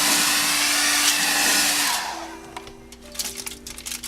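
A heat gun warms the edge of masking tape on a Bimota motorcycle fairing: a steady blowing hum that runs for about two seconds, then cuts off, leaving a few faint crackles and taps.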